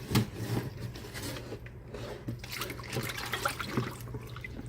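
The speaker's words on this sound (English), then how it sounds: "I'm going to drain it now." Water trickling and dripping off freshly washed garden basil as it drains, a steady close liquid splatter with small irregular drips, alone and moderately quiet.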